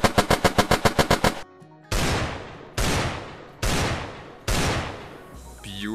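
10mm SMG gunfire in the VR game Battle Talent: a rapid burst of about ten sharp shots, then four separate longer roaring bursts with short gaps between them, loud and close.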